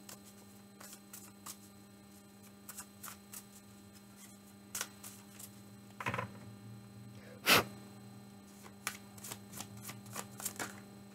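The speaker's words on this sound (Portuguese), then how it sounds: "Embaralhar até um pouco mais." Tarot cards are shuffled by hand, giving repeated soft riffling and slapping bursts over a steady mains hum, with one sharper, louder rustle near the end.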